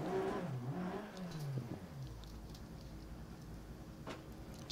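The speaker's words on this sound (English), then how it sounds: "what you want to do is build the revs up, but not too much" Front-wheel-drive car in the video game Dirt Rally revving its engine: one loud, close rev that falls away in pitch over about two seconds, then a low idle rumble with faint scattered clicks.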